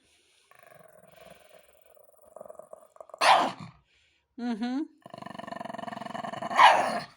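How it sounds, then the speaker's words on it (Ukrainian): A dog gives a few growly, yelping barks and whines close by, with quiet speech and soft background noise in between. "Чого ти гавкаєш?"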